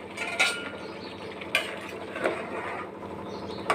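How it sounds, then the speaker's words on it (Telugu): A lid lifted off a pot of bagara rice and a utensil stirring it, a few sharp metallic clinks and scrapes spaced over a steady low background hum, close by. "ఇప్పుడు రైస్ మూత తీసి ఒకసారి కలుపుకుందాం."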